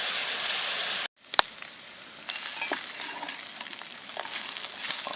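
Continuous sizzling of food frying in a pan, briefly cut off, then resuming with a sharp clink and soft crackling.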